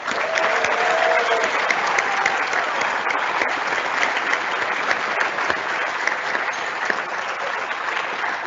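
Sustained, loud applause from a graduation audience at a dental school hooding ceremony, steady clapping throughout with no talk over it.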